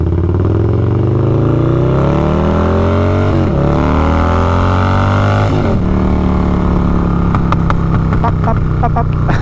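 A Harley-Davidson cruiser with a 131 engine making 150 hp accelerates hard: a loud, close engine roar climbing in pitch, dropping at two gear shifts, then settling into a steady drone with clattering near the end.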